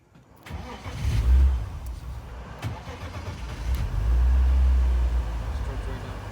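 A BMW 328i engine from a Miata swap project starting right up: a rising crank-and-catch, then a firm rev that settles into a loud, close idle, with people talking nearby.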